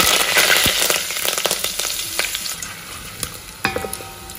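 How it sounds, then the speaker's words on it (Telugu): Curry leaves and cumin crackle and sizzle in hot oil, with sharp popping bursts over a steady frying hiss that gradually settles, close up with no talk. "దీని తర్వాత కరివేపాకు వేసుకుంటున్నాను."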